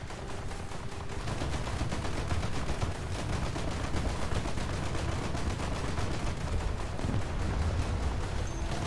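Rapid-fire 25 mm naval guns on a German coastal warship in a naval combat video game, a continuous dense roar of overlapping shots that holds steady throughout with no voices.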